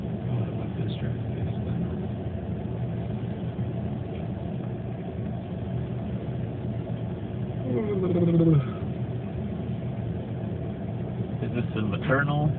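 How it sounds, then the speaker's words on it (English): Continuous road traffic with rumbling car and bus engines passing nearby at moderate level, with a brief horn-like tone and some background voices. "What about this traffic?"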